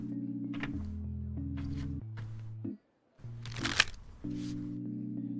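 A deck of playing cards is shuffled in brief, quiet riffling and clicking bursts over sustained background music, with a short silent gap midway.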